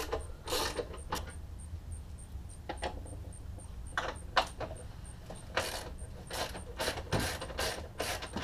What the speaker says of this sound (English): Loosen and remove the two bolts and one nut to retain the ABS pump to the vehicle.